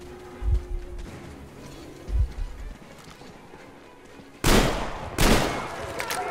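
Gunfire in the shooter game Metro Exodus: two dull low thumps early, then two loud, sharp blasts with ringing tails near the end, close and forceful against a quiet background.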